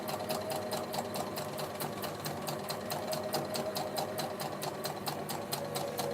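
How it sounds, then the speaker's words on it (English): A sewing machine runs a back stitch to secure its seam while making a vintage chic fabric hanger. It gives off a steady, fast mechanical chatter with an even pulse that continues without a break. "I'm going to go a back stitch to secure those stitches in"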